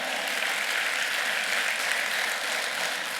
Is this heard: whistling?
no